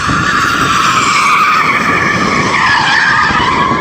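A car slides sideways in a drift with its tyres skidding and squealing loudly and continuously, the engine roaring underneath at close range.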